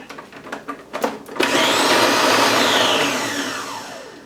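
A food processor pulses carrots, garlic and other vegetables for a gluten-free, dairy-free meatloaf: a few short bursts, then a loud, steady whirring run that slowly winds down, close and alone.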